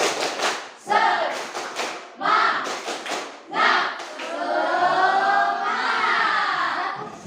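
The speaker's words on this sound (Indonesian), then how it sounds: "mari kita tepuk semangat" A class performs a rhythmic spirit clap, tepuk semangat, with bursts of group clapping in patterned beats alternating with chanted voices, followed by a longer stretch of sustained voices; loud and close.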